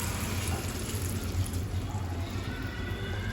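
Water poured into a pot of tuver totha curry, a steady continuous liquid rush with a low rumble, moderately close and unbroken for a few seconds.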